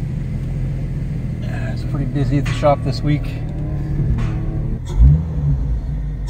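A car engine fitted with a new cowl intake rumbles low and steady while driving, with a brief throaty swell near the end, heard beneath someone talking.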